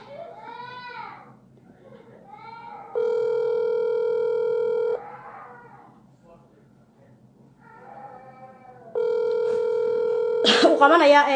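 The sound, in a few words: telephone dialing and ringing tone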